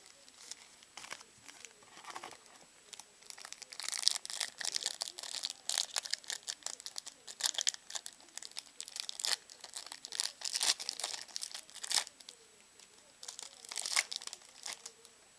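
Foil wrappers on 2006-07 Topps Luxury Box basketball card packs crinkle and tear open up close, a busy stream of sharp crackles and rustles that keeps going the whole time.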